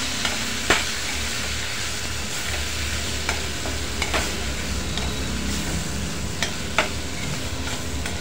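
Chickpeas with salt sautéing in a pan, a continuous loud sizzle and crackle under occasional sharp ticks of a spatula stirring and scraping at an uneven pace.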